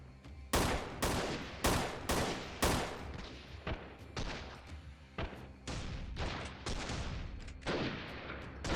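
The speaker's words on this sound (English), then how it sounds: "I think I'm actually just shooting in the bush" Repeated gunfire from a video game, Freeman Guerrilla Warfare with an overhaul mod, sounds as a string of loud, sharp shots and short bursts, some spaced and some rapid, continuing steadily for several seconds with no voices.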